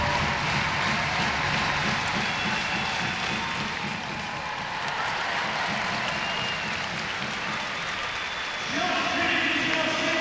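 Ice hockey crowd applauding a player after a Sheffield Steelers win over Manchester Storm, a sustained wash of clapping and cheering in an arena under a commentator's voice.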